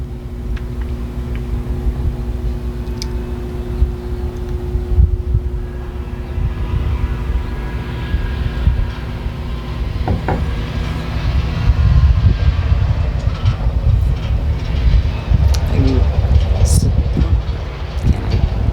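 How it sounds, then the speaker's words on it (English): A long rumble of a passing train over steady wind noise, with faint high whistle tones cutting through at moments, fairly distant. "there's the train, and he's blowing his whistle"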